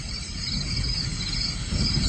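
Crickets chirp in a continuous, even drone for a night scene in a Bengali radio horror drama, a moderately quiet insect chorus with no voices over it.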